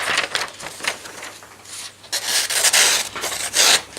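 A metal file rasping across a sheet of standard printer paper, with a run of short, dry scraping strokes that grow louder and rougher in the second half, heard close and without talk.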